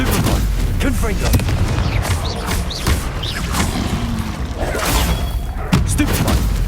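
Confringo blast spells in the video game Hogwarts Legacy go off amid combat, several booming, crashing impacts and thuds in quick succession, loud and close, with a voice speaking over them.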